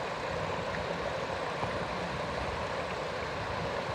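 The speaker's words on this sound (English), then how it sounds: "Nice pretty waterfall" A waterfall beside a hiking trail near Mount Katahdin gives a steady, faint broadband rush of falling water with no other sounds and no talking.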